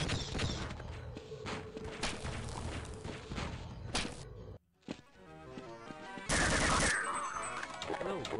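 Gunfire in the video game Half-Life: Absolute Redemption: rapid bursts of shots crackle amid game sounds, dropping off briefly before a loud, sustained blast of fire near the end.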